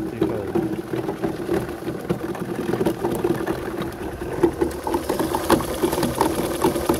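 Small 0.27 kW electric motor of a fruit grinder runs steadily close by, a continuous mechanical hum with a rattling, buzzing texture and a few faint knocks, with no speech.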